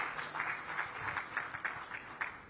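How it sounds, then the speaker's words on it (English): An audience at a health awards ceremony applauds the sponsors, a faint, distant wash of clapping that holds steady for a couple of seconds. "Can we please have a big round of applause for them once again?"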